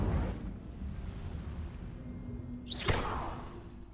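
An Incendio fire spell is cast in the Hogwarts Legacy video game, a single sudden whooshing fiery burst near the end, loud against a low rumbling game background.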